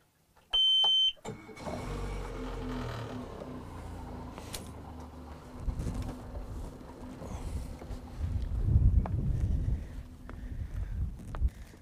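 A boat engine rumbles low and steady under gusty wind as the boat heads upstream on the River Deben, opening with a short high electronic beep.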